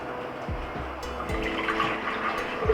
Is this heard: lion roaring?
no